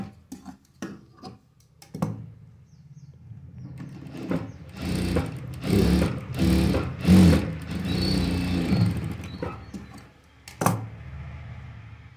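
A sewing machine stitches a blouse lining in uneven, stop-start bursts of rapid mechanical ticking and whirring, with scattered clicks and handling knocks between runs.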